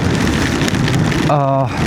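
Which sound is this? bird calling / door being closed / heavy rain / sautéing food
heavy rain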